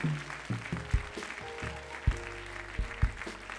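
A church congregation claps in acclaim of God, a diffuse wash of applause blended with sustained keyboard tones and deep irregular drum thumps, fairly distant and moderate in level.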